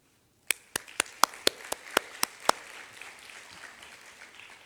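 Graduation audience applauding lecturers: about nine crisp, evenly spaced claps ring out close by, then thin into a softer, scattered wash of clapping that fades away.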